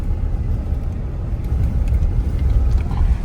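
A vehicle driving off-road in Ladakh, with traction control switched off, gives a steady, close low rumble of engine and tyres that runs unbroken throughout.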